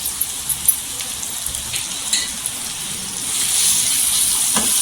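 Dry ground spices (garam masala, turmeric, coriander powder, salt) frying in hot oil for a spicy potato dish, a steady soft crackle and sizzle that grows denser toward the end, close by with no talking.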